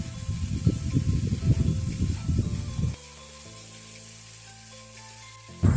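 Masala sizzles in a pan as it is mixed, with loud crackling and scraping for about three seconds before the sound drops to a quiet hum.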